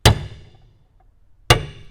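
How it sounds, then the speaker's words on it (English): Two sharp metallic strikes of a hammer on a flat tip punch, driving a staple flush into wood trim, spaced about a second and a half apart, each ringing briefly before fading, with no talk. "you can come in here with a hammer and a punch, and you can punch this down"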